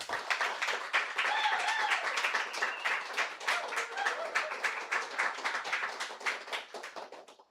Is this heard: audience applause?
yes